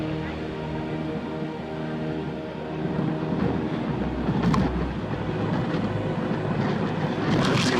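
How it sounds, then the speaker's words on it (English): Steady broadband wind rushes continuously, buffeting the microphone with low rumbling gusts that swell slightly louder midway. "It's windy again."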